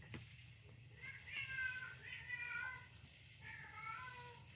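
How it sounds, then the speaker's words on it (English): A cat meows several times in a row, soft and somewhat distant, over a quiet background hum. "there's a cat somewhere over here. I don't know if you all heard that."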